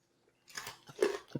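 Honey pretzels crunched close to the mouth while eating, several quick crisp bites and chews in one short burst.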